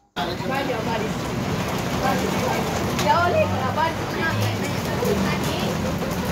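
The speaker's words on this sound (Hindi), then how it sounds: "और साथ ही हो रही है जी बारिश" Steady rain falls outdoors in a continuous, even wash of noise, with a voice talking over it throughout.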